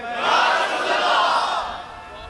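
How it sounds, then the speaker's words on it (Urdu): A large crowd at a religious gathering chants a slogan in unison, a loud, sustained roar of many voices swelling and fading over a couple of seconds. "اینج نہیں نعرہ تسی مینوں اج لطف نہیں آیا تواڈے نعرے دا"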